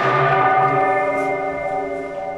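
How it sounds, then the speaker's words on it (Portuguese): Sampled carillon bell tone in an Ableton Live hip-hop beat, with layered sustained harmonic partials ringing steadily and slowly decaying across the whole stretch, loud and alone. "Então aproveitei dois sons, o do carrilhão"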